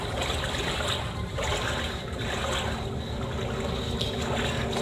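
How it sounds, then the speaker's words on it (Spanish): Someone wading through water in the horror game Outlast: a steady murky sloshing and trickling of water runs continuously, with faint hollow ambience around it and no talk. "Escucha como que anda alguien en el agua."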